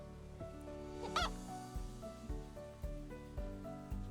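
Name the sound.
chickens being caught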